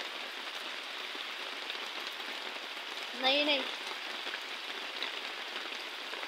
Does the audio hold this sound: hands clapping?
no